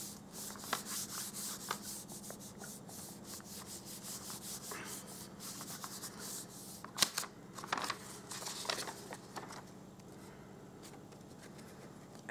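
A hand rubbing firmly over a paper sheet laid on a card during paper crafting, a steady soft scraping and swishing that continues throughout, close and fairly quiet, with a few sharper rustles.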